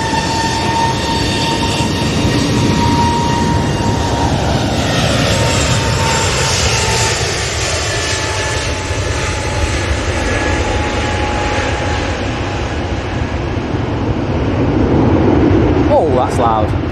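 An EasyJet airliner roars past at Manchester Airport, a loud, sustained jet rumble and whine that holds steady for the whole stretch, nearby and dominating the scene.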